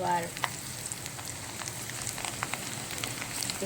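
Garlic goes into hot oil in a pan and sizzles continuously at close range, a dense crackling frying sound with a few scattered pops. No one talks.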